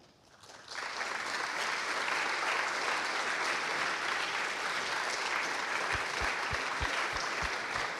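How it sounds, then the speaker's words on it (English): A conference audience bursts into sustained, dense applause for the organizing team, starting abruptly and holding steady and loud for several seconds, with a few low thumps near the end. "I would like to ask on stage for the round of applause"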